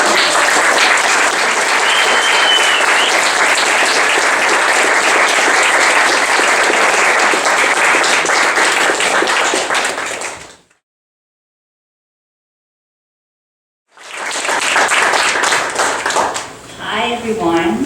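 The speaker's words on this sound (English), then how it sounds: "A round of applause." Audience applause at a 2019 commencement ceremony, loud and dense from a large crowd, sustained for about ten seconds before cutting to silence, then swelling again and tapering.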